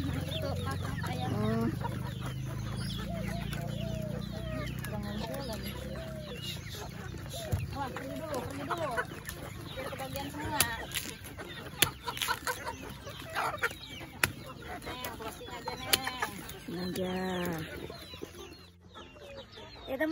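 Chickens cluck continuously close by on a farm, with a rooster crowing at times, while people talk over them throughout.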